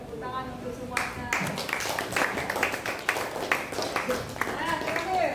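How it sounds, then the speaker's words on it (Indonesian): Students in a classroom clap together in a brisk, dense round of applause lasting a few seconds, close by, with a teacher's voice heard just before it begins. "Oke, tepuk tangan untuk semuanya."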